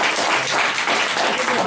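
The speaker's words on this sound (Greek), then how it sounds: "Ένα χειροκρότημα." Brief, steady applause from a gathered crowd at an outdoor Karneia festival performance for Apollo, a continuous wash of many hands clapping at even loudness throughout.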